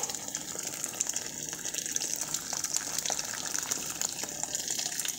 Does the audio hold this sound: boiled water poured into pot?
yes